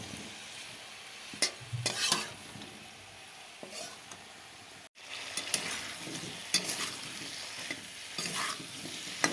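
Cauliflower fries slowly with turmeric in a pan over very low heat: a soft, steady sizzle with intermittent scraping stirs and a brief dropout midway.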